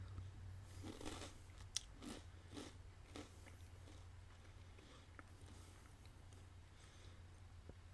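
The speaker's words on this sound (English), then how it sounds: "The crunch is still weird" Crunching and chewing of IHOP pancake cereal with milk, close up and quiet, with a run of crisp bites early on that thins into softer chewing and small crackles.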